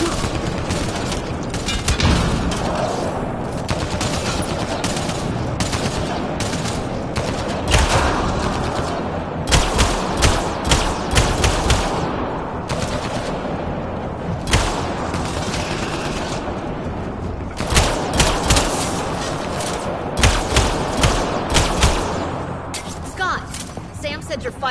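Sustained gunfire in the sci-fi shooter game Mass Effect Andromeda, with bursts of rapid shots and thuds crackling loudly throughout and intense peaks, while characters call out over the combat.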